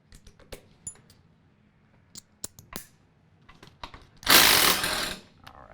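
Wrench work on a seat belt bolt, a 13mm, in a Ford Ranger XL cab: scattered sharp ratcheting clicks and small metallic knocks, then a louder burst of rustling near the end, close and without talk.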